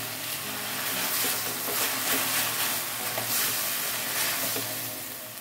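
Water spinach stir-fried with sliced tomato and sugar sizzles loudly in a pan, with continuous frying crackle and occasional stirring scrapes close up.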